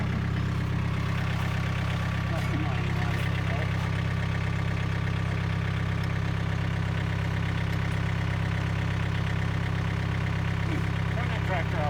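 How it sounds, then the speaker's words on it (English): A tractor engine idles at a weld shop building site, a steady low rumble that runs loud and even throughout with no change in pace. "Turn that tractor off there."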